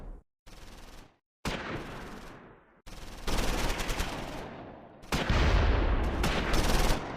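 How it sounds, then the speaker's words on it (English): A BAR team fires on advancing German infantry near a bridge in Close Combat 4, Battle of the Bulge, 1944: bursts of automatic gunfire separated by short gaps, growing louder and denser toward the end. "First Sergeant Kelly's BAR team prepares to open up on German infantry advancing on the bridge."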